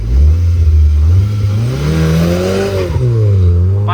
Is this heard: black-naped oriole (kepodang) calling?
no